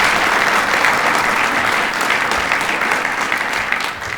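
An audience of parents and administrators gives students a sustained round of applause, dense, loud and steady clapping that eases off slightly at the end.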